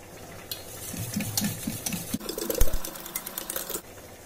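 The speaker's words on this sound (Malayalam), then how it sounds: "അപ്പം നമ്മളിനി അടുത്ത് ചെയ്യാൻ പോകുന്നത് തൈര് ബീറ്റ് ചെയ്യാണ്" Curd is beaten in a bowl with rapid rhythmic clicking and tapping of a utensil, close and steady, with a brief louder knock midway.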